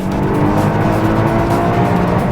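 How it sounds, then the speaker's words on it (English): A 2012 Lotus Evora S with IPS automatic gearbox revs loudly and continuously on a race track, a dense close engine roar held at high RPM. "you can hear that the engine will rev match"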